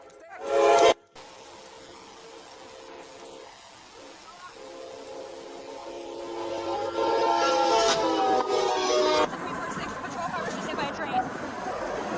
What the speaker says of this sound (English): a train approached, its horn blaring as the situation turned catastrophic